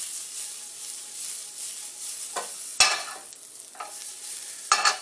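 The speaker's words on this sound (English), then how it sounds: "Work them around in the pan." Green beans saute in a pan with a steady, moderate sizzle, broken by several sharp scrapes and clatters as they are stirred and tossed around.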